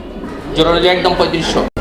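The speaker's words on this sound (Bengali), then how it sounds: "দর্শক আমরা এই মুহূর্তে দেখতে পাচ্ছি এখানে কবুতরের কালেকশন আছে" Pigeons coo at a pigeon market, heard under someone talking loudly in the foreground during a brief moment.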